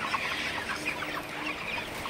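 A flock of broiler chickens ready for sale clucks steadily, many overlapping birds filling the space with a dense, continuous murmur of clucks at moderate volume.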